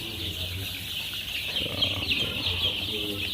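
Chickens clucking in a farm pen, a steady close chorus of clucks with occasional low calls over constant background noise.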